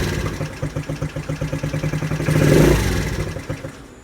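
A GY6 scooter engine sputters with a steady pulsing idle, swells briefly as the throttle is pulled, then sags and fades as it starts to stall.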